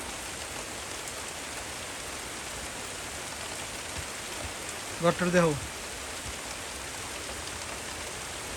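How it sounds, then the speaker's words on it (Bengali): The year's first proper rain falls steadily as a constant close hiss, while a voice briefly speaks midway. "এটা ভালো মতো বৃষ্টি হইতেছে"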